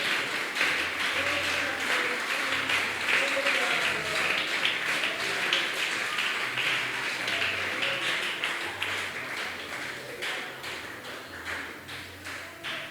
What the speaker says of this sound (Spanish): Denle ese aplauso al Señor.